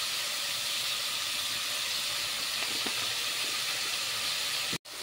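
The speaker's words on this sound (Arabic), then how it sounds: "قلب بقى البصلايه مع اللحمه كويس جدا" Meat and onions sauté in a pan with a constant broad hissing sizzle, steady throughout until a brief sudden cut near the end.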